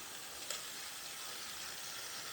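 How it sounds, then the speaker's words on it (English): A toy train's motor runs on a wooden track with a steady, quiet whirring hiss without pause, with one faint click near the start. No voices are heard. "The motor is not too loud. It's got, some sound to it"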